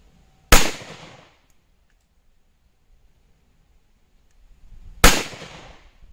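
Two sharp, loud gunshots ring out about four and a half seconds apart while ammunition is fired over a chronograph. Each crack is followed by a short echoing decay.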